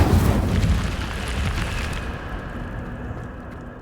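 A fiery spell bursts in a fantasy video game, a loud whooshing roar that flares at once and then slowly dies away into a fading rumble, with no voices over it.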